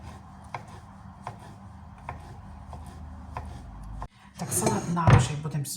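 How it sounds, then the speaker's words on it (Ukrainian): A knife cuts boiled carrot on a board, regular light taps about every half second, followed by louder clattering and scraping as the pieces are handled, with no talking. "для початку беремо відварену моркву і ріжемо"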